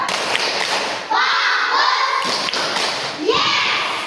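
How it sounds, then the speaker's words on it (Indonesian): A class of elementary schoolchildren claps out the 'tepuk fokus' routine, with a few quick patterned claps and dull thumps mixed under loud chanting voices in a classroom. "Tepuk fokus."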